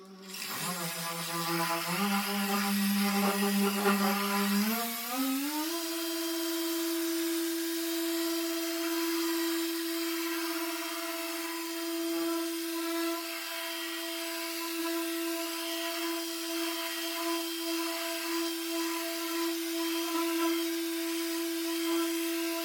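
A Torq 10fx random orbital polisher works the paint of a salvage truck, its steady whine stepping up in pitch around five seconds as speed rises, then holding a loud, close, even drone with no talking.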